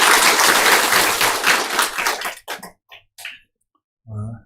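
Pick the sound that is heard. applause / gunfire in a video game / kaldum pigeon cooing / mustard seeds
applause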